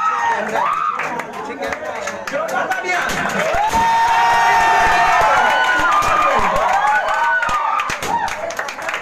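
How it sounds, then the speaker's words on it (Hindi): A crowd at a Teacher's Day celebration claps continuously, a dense patter of many hands mixed with cheering and overlapping voices, loud and close throughout. "तालियां बजती रहे, तालियां बजनी चाहिए।"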